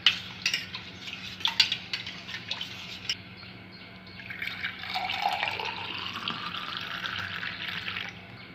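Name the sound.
stirring amla juice with black pepper powder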